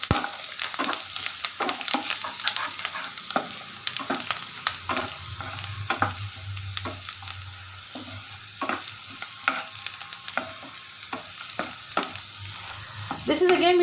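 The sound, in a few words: sautéing chili, garlic and ginger in a pan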